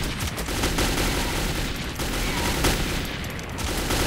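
Gunfire in Metro 2033, a dense, loud fusillade of rapid shots crackling continuously over a few seconds, close and overlapping.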